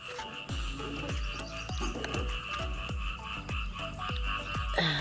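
Frogs croak near a market in Champa Dong, a steady series of about nine deep, evenly spaced croaks over a constant high insect-like chorus, fairly close and clear, with no talking.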